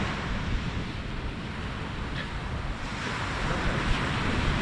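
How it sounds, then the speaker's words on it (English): Wind and surf roar steadily at the seashore during a high-water sea-fishing session, a loud, unbroken wash of noise that builds slightly toward the end, with no talking. "Bit windy, isn't it?"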